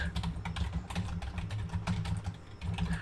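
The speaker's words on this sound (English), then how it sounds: "Why are you typing so loud, Brendan?" Loud, rapid clacking of computer keyboard keys in quick irregular bursts, close and continuous over a low background hum, during a fantasy football draft broadcast.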